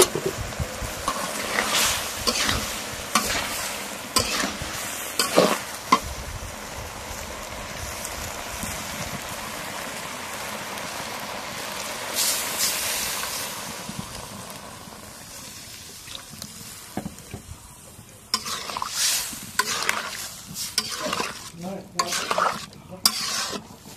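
Fish and cauliflower curry simmering and being stirred in a pot, with repeated spatula scrapes and knocks over a bubbling, watery sizzle that grows quieter and more sporadic toward the end.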